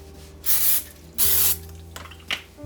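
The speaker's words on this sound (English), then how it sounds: "I'm going to go ahead and spray these with a little bit of nonstick spray" Nonstick cooking spray is sprayed onto foil in two loud, close bursts of about half a second each, followed by a fainter short spritz, with no voices present.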